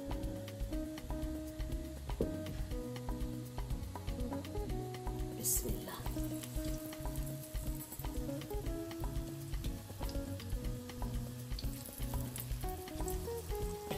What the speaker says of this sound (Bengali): এখন আমরা ভাজতে শুরু করে দিই।